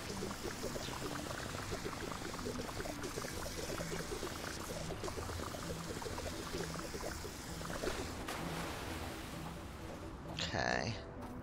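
Water pouring and splashing in the video game Fresh Start Cleaning Simulator, a dense continuous gushing wash that runs throughout, with a person talking over it and a brief louder splash near the end.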